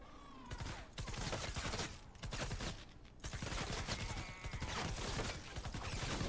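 Rapid bursts of Gravedigger gunfire blast at mist monsters in Fortnite Save the World, several loud sustained volleys separated by brief pauses, close and dense with mechanical clatter and no talking.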